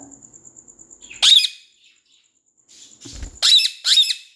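A pet bird squawks in three loud, harsh bursts close by, the first alone and the last two in quick succession, with quiet gaps between.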